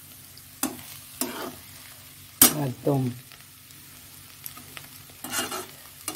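Potato and egg frying in a pan with tempering, salt and turmeric, stirred in a few sharp scraping bursts with faint sizzle between; a voice speaks briefly.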